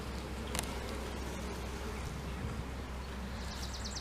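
Honeybees buzz around an open hive during a winter culling inspection, as the colony attacks a small hive beetle; a steady, dense, close drone continues throughout without talk.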